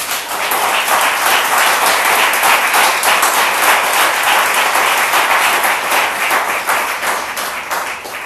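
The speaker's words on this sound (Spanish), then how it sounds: "me gustaría que la iglesia aplaudiera al Señor" A church congregation applauding during a Spanish-language sermon, loud and close, a dense, steady burst of many hands clapping sustained for about eight seconds with no talking.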